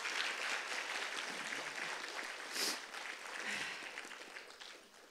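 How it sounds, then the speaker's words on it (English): An audience at a Bharatanatyam arangetram applauds the accompanying orchestra with a steady, soft wash of many hands clapping that swells briefly and then tapers off, heard from a distance. "another round of applause for them, please."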